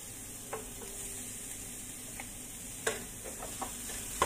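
Garlic and ginger frying in browning oil for an Arabic dish, a steady soft sizzle with occasional light clinks and stirring taps from a utensil in the pan.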